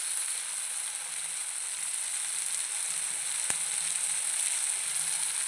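Steady, close frying hiss of tomatoes cooking down in a pan, with homemade red chili chutney added, continuous and even apart from one brief tick of a spoon.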